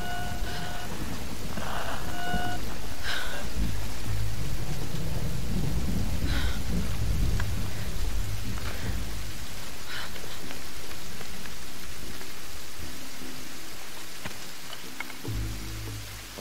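Steady rain and rolling thunder from the Tomb Raider video game, with the downpour constant throughout and deep rumbles swelling in the middle and fading out near the end.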